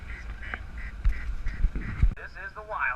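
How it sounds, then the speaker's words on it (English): Ducks quack in short nasal bursts, close by, mixed with outdoor rumble and a voice speaking over them. "Some of my favorite kind of duck."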